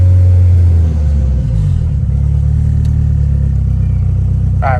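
A turbocharged Honda Civic engine idles while warming up, a loud, close, steady low rumble that settles into an even idle after a brief higher rev at the start.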